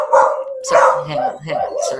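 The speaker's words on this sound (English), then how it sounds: "There's an extra dog here" A dog barks and yips close by in a home setting, a few sharp, loud calls in quick succession.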